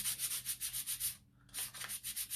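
Sandpaper rubs rapidly back and forth on scrap wood in a steady scratchy rhythm, close up, with a short pause midway before the strokes resume.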